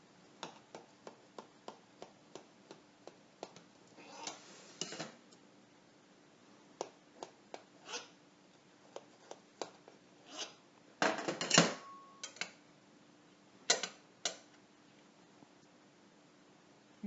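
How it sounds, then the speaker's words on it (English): A piece of apple fritter cake is cut with a knife in a quiet kitchen, making scattered faint ticks and clicks of the blade against the cake and pan, with a louder rustling cluster partway through. "Now let's cut a piece."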